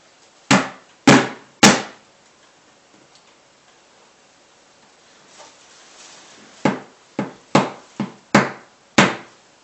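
Sharp hammer strikes driving plastic pins into Compospin composter parts, three blows in quick succession, a quiet pause with faint handling, then six more evenly spaced knocks, loud and close.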